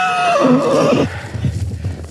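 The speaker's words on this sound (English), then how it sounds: "Oh, now there's a horse whinnying." A horse whinnies loudly and close by for about a second, its call rising and falling, followed by softer shuffling and hoof sounds.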